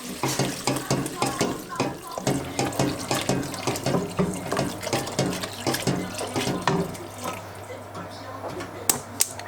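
Water splashes steadily for several seconds as a litre is poured into a pot of soup with chicken stock cubes, a close continuous gurgling rush that thins toward the end, with someone speaking over it.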